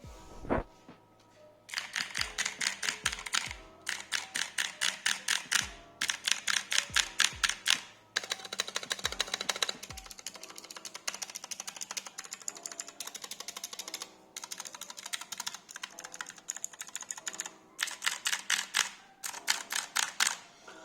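Rapid bursts of clicky blue optical mechanical switches on a keyboard come in fast rhythmic runs separated by short pauses, crisp and close.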